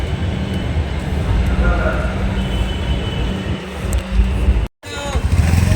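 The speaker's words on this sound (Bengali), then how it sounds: "ওই যে মেট্রো আসছে ওদিক থেকে ওপরে ওপরে" A steady low rumble of a metro train approaching along an elevated track above a road in Howrah, Kolkata, broad and continuous under street noise and someone talking.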